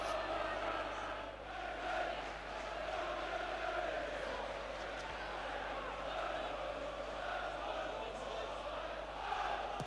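A football crowd roars steadily after a Tottenham goal by Sheringham, a broad, sustained wash of cheering and chanting with a commentator's voice over it.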